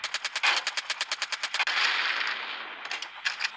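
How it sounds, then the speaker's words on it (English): Rapid, evenly spaced bursts of gunfire from a helicopter in the mobile game Gunship Battle, a steady rattling stream of shots that breaks off briefly then returns in short bursts, fairly quiet and with no talking. "Aim and open fire."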